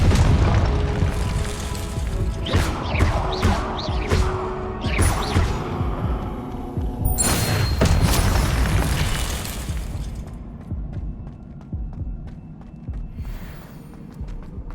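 A Confringo fire spell bursts in Hogwarts Legacy combat: several booming, shattering blasts in quick succession, then a big explosion that trails off into quieter rumble.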